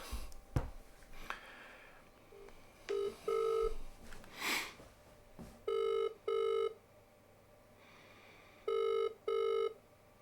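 Outgoing telephone call ringing with no answer: a faint dialing click sequence, then paired electronic ring tones repeating at steady intervals, loud and clear against a quiet background.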